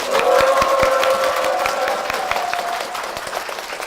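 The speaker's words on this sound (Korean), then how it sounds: "박수 한번 모시겠습니다." Church congregation applauds as a deacon is welcomed forward during a service; dense, steady clapping from a full room holds at a loud level and fades slightly toward the end.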